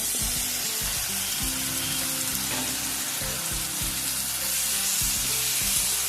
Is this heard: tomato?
yes